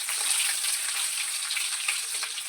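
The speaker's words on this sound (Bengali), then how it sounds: "এই যে তেল গরম হয়ে গেছে আমার, আমি প্রথমে পেঁয়াজ দিয়ে দিলাম কড়াইতে" Onion frying in hot oil in a wok, a bright continuous crackling sizzle up close, steady throughout with no one speaking.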